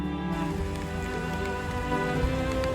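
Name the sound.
rain falling in the wind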